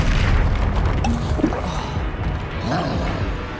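In the Hogwarts Legacy video game, a Confringo spell blasts with a muffled boom and crashing impact. Scattered thuds and whooshes of combat follow, with steady low rumbling underneath.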